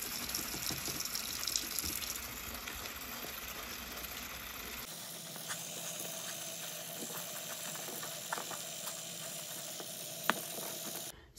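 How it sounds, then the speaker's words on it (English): Bathroom sink tap water runs steadily while a Shark Vertex vacuum filter is rinsed and rubbed by hand, a soft continuous splash with occasional sharper clicks and rustles, close but quiet. "You're just gonna turn your water on and you just kind of rub it all out."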